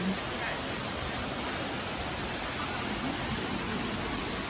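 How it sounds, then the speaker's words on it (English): Rain falls outdoors on a warm summer day in Oslo, a steady, even hiss that fills the whole stretch with no breaks or distinct drops. "Yeah, it's raining."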